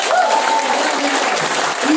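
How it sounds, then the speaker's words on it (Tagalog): Audience applause at an engineering special training session honoring Engineer Antonio Santiago, steady dense clapping filling the whole moment with a voice calling out over it. "At milyo-milyo palakpak"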